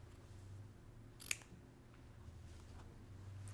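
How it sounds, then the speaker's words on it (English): Scissors snipping through foundation paper while sewing a vintage sunburst block, two short crisp cuts spaced a couple of seconds apart, close but quiet over a low room hum. "I'm going to cut that off."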